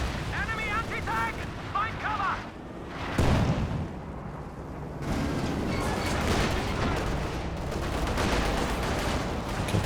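Flame barrages fired from an infantry support gun in a Company of Heroes 2 2v2 match: loud, dense rumbling blasts and crackling gunfire fill the whole stretch, with a sharp burst midway and a brief tonal voice-like sound near the start.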